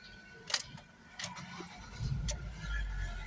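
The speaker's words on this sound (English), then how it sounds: "The car has started." A Ford Focus engine cranks and catches, with short clicks and whirs first and then a rising low rumble that settles into a steady idle close by.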